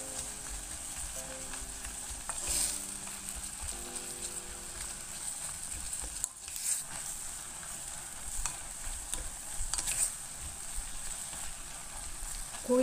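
Meat stir-frying with soybean paste and chili powder in a pot for cheonggukjang stew, a continuous close sizzle with faint scraping and a few brief clicks throughout, no voices.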